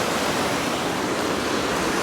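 A river rushing beneath a bridge, a loud, constant broadband roar of flowing water heard up close with no break and no voices.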